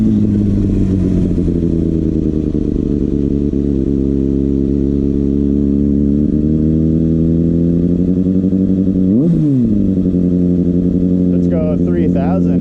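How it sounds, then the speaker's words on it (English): Kawasaki ZX6R motorcycle engine held at a steady, loud idle-up drone, with a brief dip and recovery near the end as the revs settle back up close to the mic. "It's time to idle up."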